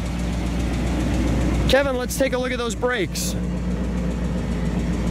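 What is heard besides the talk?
1965 AMC Rambler Marlin engine idling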